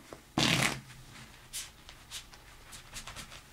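A quick riffle of playing cards being shuffled, followed by a few soft taps and light card handling noises.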